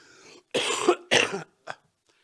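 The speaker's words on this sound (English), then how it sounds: "sometimes I cough" Two sharp, forceful coughs close together, followed by a shorter cough, all close and loud against near silence.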